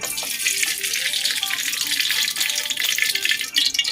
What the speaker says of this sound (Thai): นำกระทะตั้งเตา เปิดไฟอ่อน ๆ ใส่น้ำมันพืชสำหรับผัดลงไป 5 ช้อนโต๊ะค่ะ